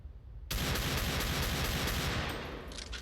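Desert Eagle pistol fire in CS:GO: a sudden loud blast after a half-second of quiet, then sustained dense, close gunfire that stays loud before easing slightly near the end.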